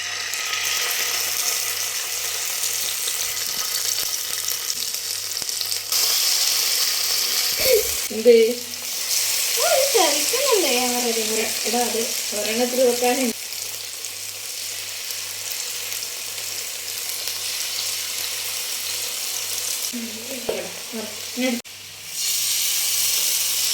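Fish coated in masala frying in oil, giving a steady hissing sizzle close by, with voices talking over the frying in the middle and again near the end.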